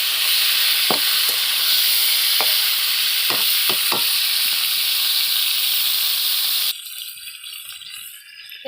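Cauliflower pieces fry in a pan with a loud, continuous sizzle broken by several sharp stirring clicks, then the hiss drops abruptly to a quieter background near the end.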